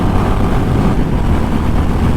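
A 2023 Honda CB350RS motorcycle is ridden hard uphill, its engine giving a loud, steady, dense drone with heavy wind rush and no clear breaks or voices.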